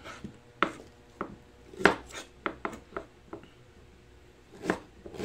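Ginger being sliced with a kitchen knife on a board, about a dozen sharp, irregular chopping taps close up, with no talking over them.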